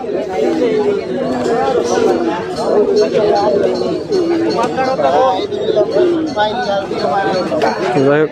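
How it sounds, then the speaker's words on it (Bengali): Pigeons coo and flutter at a large, busy pigeon market in Toktarchala, Tangail. The birds sound continuously under dense, close crowd chatter and haggling voices. "এইখানে বেশ কিছু কবুতর আছে, এইগুলো 1000 টাকা করে দাম চাচ্ছে ভাই।"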